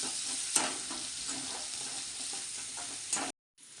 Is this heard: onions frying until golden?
yes